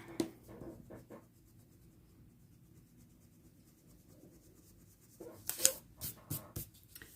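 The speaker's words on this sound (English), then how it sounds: "I'm going to erase this so that when I do my colored pencil, it doesn't show as much" An eraser rubs out pencil marks on paper in short scratchy strokes, faint and close, pausing through a quiet middle stretch before a final burst of quicker rubbing.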